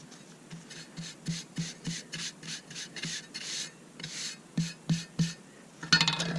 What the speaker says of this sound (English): I'll take my trowel and go over the end, pack it so it doesn't look like it's sitting up.